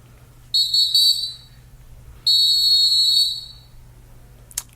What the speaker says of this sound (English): That whistle, man. Every week.